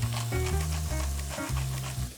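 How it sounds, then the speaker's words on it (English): Onions frying in a pan for a duck dish, a steady loud sizzle with strong low tones and shifting harmonic layers throughout, no talking. "Fry some onions."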